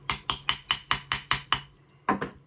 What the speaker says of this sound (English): We're just going to give it a little tap with a hammer.